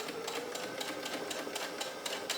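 A sewing machine stitches a small Y seam on knit fabric, a quick, even mechanical whir of needle strokes held close and fairly quiet for a couple of seconds.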